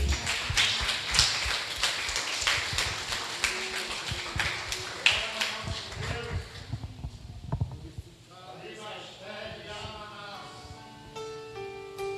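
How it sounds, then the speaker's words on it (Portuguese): A church congregation clapping hands during a family service, dense rhythmic applause for several seconds that fades into quieter sound and then singing. "Que as palmas louvem o nome do Senhor Jesus."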